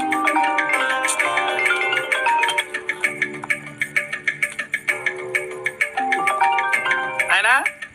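A phone ringtone plays a bright, melodic electronic tune that repeats in short phrases, loud and close, continuing for several seconds with a brief chirping flourish near the end.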